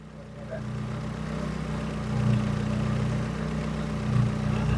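An old Proton Persona car engine with a faulty compressor and erratic revs runs at steady idle, a close low hum that swells slightly twice, with no clear starting crank heard.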